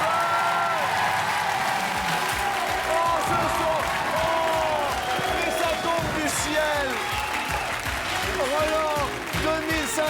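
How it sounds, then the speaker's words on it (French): A French television game show studio audience applauds steadily and loudly throughout, a dense clapping wash mixed with upbeat music. "On applaudit fort Monique, son épouse"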